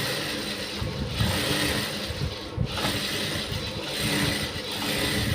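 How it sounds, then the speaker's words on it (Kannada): A sewing machine stitching blouse lining whirs close by in a continuous mechanical clatter, with slight changes in speed and one brief pause. "ಈಗ ನಾವು ಲೈನಿಂಗಿಗೆ ಒಂದು ಸ್ಟಿಚ್ನ ಮಾಡ್ಕೊಳ್ತಾ ಇದ್ದೀನಿ"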